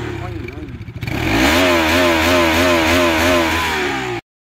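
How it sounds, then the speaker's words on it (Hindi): A Bajaj Pulsar RS 200 motorcycle with dual-channel ABS and an underbelly muffler idles and revs at low RPM, a close, steady throbbing exhaust note that rises into a sustained run after a short idle. "इसका जो लो RPM पे जो एग्जॉस्ट का साउंड है ना वो काफ़ी प्यारा निकलता है।"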